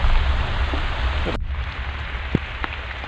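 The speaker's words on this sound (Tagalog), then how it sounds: "Lakas ang ulan." Heavy rain pours down outdoors with no roof overhead in a dense, loud roar, suddenly dropping in brightness partway through, with a few sharp drips afterward.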